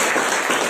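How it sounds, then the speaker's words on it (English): A crowd applauds steadily, a dense wash of clapping that holds at an even loudness throughout with no voices on top. "Big round of applause."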